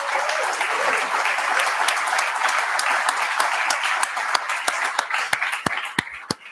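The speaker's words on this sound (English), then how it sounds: "So please, a big round of applause for him." Audience at a network operators' meetup hosted at Google claps for a few seconds, a dense, even patter that thins out near the end into a handful of separate, sharp final claps.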